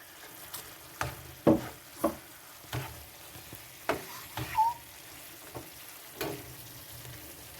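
Chicken malai kebab pieces frying in a pan as a cornflour mix goes in, giving a soft sizzle broken by a few sharp spatula taps and scrapes at irregular intervals.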